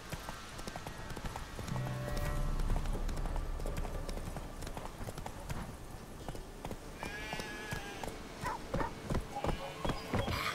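Horse hooves clip-clop steadily on a path in The Witcher 3, rhythmic and close, with brief in-game voices and faint ambient game sounds around them.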